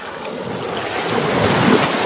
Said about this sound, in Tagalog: kalmado yung hampas ng tubig ngayon compare sa pagpunta namin dati